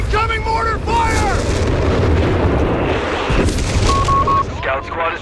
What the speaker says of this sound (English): Incoming mortar fire.